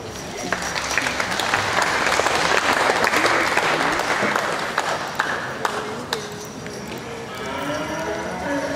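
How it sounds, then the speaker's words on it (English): Audience applause for a Jersey heifer class at the 2018 Ontario Summer Show cattle show: dense, steady clapping from a crowd, sustained for several seconds and easing slightly toward the end, with faint voices mixed in. "Let's give them a big round of applause."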